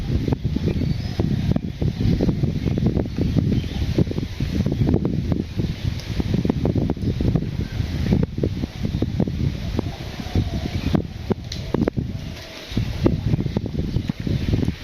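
Strong wind buffeting a microphone outdoors in a Bangladeshi village, a loud, gusty rumble with irregular bursts and brief lulls that continues throughout, with no voices clearly heard.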